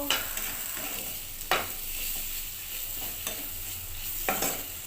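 Potatoes sizzle in a frying pan while a utensil scrapes and stirs them, with several distinct scraping strokes over the steady sizzle.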